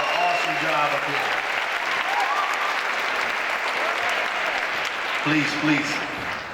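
Steady crowd applause rolls on for several seconds for young people at a city gathering, with a voice heard over it near the start and again at the end.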